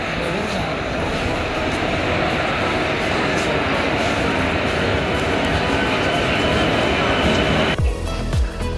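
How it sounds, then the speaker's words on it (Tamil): A suburban train passes in Chennai, a loud, continuous roar and rattle of wheels and carriages that holds steady, then cuts off sharply near the end. "அந்த ட்ரெயின் தான்"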